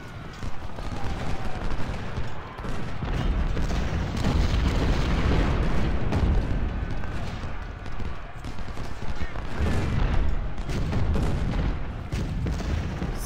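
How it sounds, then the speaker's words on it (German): Rolling musket and artillery fire from troops in the Civil War strategy game Ultimate General: Civil War, Battle of Mansfield, forms a dense, continuous battle din with booming volleys and scattered shots throughout, while someone talks in German. "Aber sie schießen aus irgendeinem Grund."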